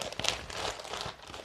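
Clear plastic bag crinkles and rustles steadily up close as an oversized, colourful craft item is pulled out, with no talking.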